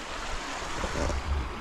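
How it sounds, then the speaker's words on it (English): Steady broadband rush of a gurgling river in Ennerdale at a wild campsite beneath an overhang, continuous and close, with no voices over the flowing water. "fall asleep to the sound of the gurgling river"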